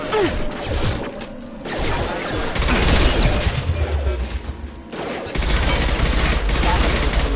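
Sustained automatic gunfire aimed at hostile mechs in Mass Effect 2, loud rattling bursts that stop and restart several times in a noisy combat scene with crashing impacts.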